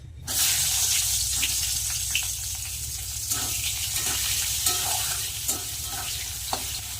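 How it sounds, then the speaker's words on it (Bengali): Chopped onion hits hot oil already seasoned with five-spice (panch phoron) and dried red chilli, setting off a loud, steady sizzle that continues close up throughout, with a few light stirring clicks and no talking. "তেলে আমি দিয়ে দিয়েছি পাঁচফোড়ন আর শুকনো লঙ্কা দেখতে এবার দিয়ে দেবো কেটে রাখা পেঁয়াজ কুচনো পেঁয়াজ"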